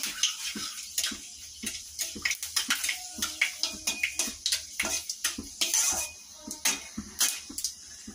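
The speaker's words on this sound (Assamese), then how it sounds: "এইটো অলপ লাৰি চাৰি ভালো ভাজি লওঁ।" Whole spices and two dried red chillies sizzle and crackle in hot oil in a pan, with repeated scraping and clinking of a spoon stirring them, close and steady throughout.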